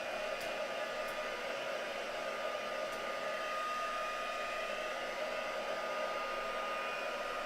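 Heat tool blowing hot air across a craft project, a steady even whoosh that holds unchanged and close for the whole stretch with no talk.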